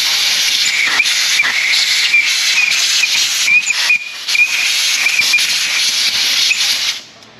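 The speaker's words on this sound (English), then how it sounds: "Loud air noises." Compressed air blasts loudly and steadily through a full-floating axle housing on a 2002-2007 Silverado 3500 6.6, a continuous close hiss with a whistling edge that briefly dips before cutting off at the end.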